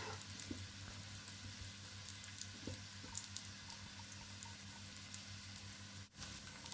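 Chana dal tikki frying in a pan, giving a soft, steady sizzle and light crackle throughout, faint and close with no voices.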